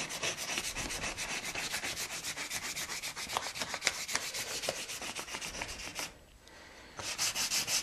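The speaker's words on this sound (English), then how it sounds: "You always got to stay with the grain when you're hand sanding." Wood sanded by hand along the grain, brisk rhythmic rasping strokes repeating quickly and evenly, with a short pause near the end before the scrubbing resumes, no voices.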